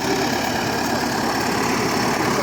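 A tractor's SMD-22 turbocharged diesel engine with intercooler runs loud and close, a dense, steady rumble with constant vibration and no pauses.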